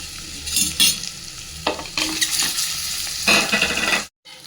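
A masala of chilli powder, ginger garlic paste, garam masala and a little pepper fries in a pan, sizzling loudly while a spoon scrapes and stirs in bursts, ending in a short silence.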